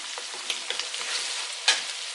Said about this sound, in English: We want the onions to be fully coated with oil. And the garlic and the chili.